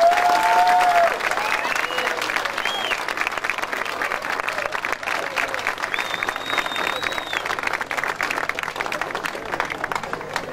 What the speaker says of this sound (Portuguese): agradecia uma salva de palmas a eles